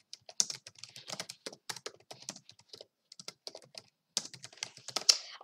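Typing on a computer keyboard during an online bullet chess session, quick irregular bursts of close, crisp key clicks with a short pause midway before a faster flurry.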